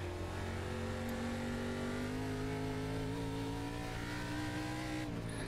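Race car engines from an ARCA sim racing game at Music City, a loud steady drone that rises and falls slightly with revs, continuous throughout with no talk.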